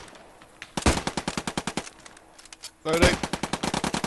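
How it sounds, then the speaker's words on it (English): Machine gun laying down suppressing fire during section attack training outdoors, rapid evenly spaced bursts of loud shots in two strings separated by a brief pause, with a voice calling out briefly. "Suppressing enemy on the burn to the east. Suppressing fire."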